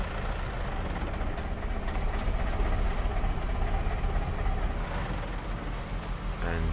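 Game vehicle engines idling in Farming Simulator 22 on the Zielonka map, a steady low rumbling drone that fills the whole stretch at a constant level with no breaks.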